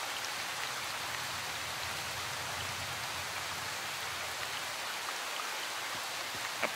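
Steady rain falls with an even, close hiss of many drops on surfaces, continuous and unbroken, with no voices.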